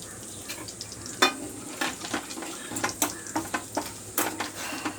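Bay leaf and asafoetida sizzle in hot oil in a kadai for restaurant-style kadai paneer, a steady fry hiss broken by a dozen sharp stirring scrapes and clinks of a utensil against the pan.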